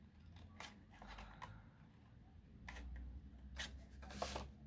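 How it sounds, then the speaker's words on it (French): Scissors cutting card at an angle for a handmade scrapbooking card: several crisp, quiet snips and paper rustles close by, spaced irregularly, with no talking. "J'attrape mes ciseaux, je vais couper en biais ici."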